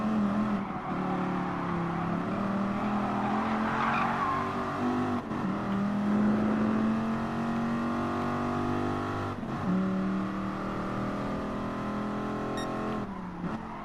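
A recent 24 Hours of Le Mans race car in Gran Turismo Sport sliding with its tires squealing, a loud, continuous engine drone rising and falling under sustained skidding tire whine, with brief shifts in pitch throughout.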